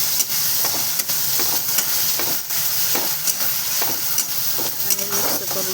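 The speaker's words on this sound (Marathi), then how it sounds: "आणि मिक्स करून घेतले असं सगळं, डाळ, टमाटो, मिरच्या आणि लसूण." Soaked mung dal, tomato, green chillies and garlic are stirred together in a hot pan, giving a constant sizzle with repeated spoon scrapes and clinks at close range.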